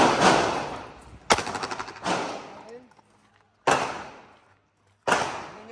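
A Glock 17 Gen5 pistol fitted with a Glock Performance Trigger fires about five loud, sharp gunshots, spaced unevenly with gaps of about a second, each one followed by a short echoing tail.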